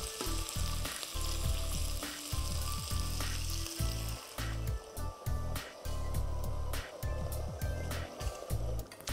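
Celery simmering in a pan after broth is poured in gives a steady bubbling sizzle up close, broken by frequent clattering knocks and taps of a utensil against the pan.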